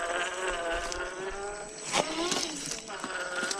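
The electric motor of an FMS FCX10 Defender 110 Camel Trophy RC crawler whines under throttle, a thin, steady buzz close to the microphone with a few louder surges.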